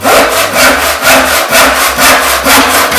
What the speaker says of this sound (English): that's with a handsaw